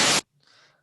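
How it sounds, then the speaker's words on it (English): A short, loud burst of harsh white-noise hiss from an 8-bit noise channel on an MPC Live cuts off abruptly, followed by a faint, thin electronic residue. "There's also a noise channel, which we have here, which is just straight up white noise."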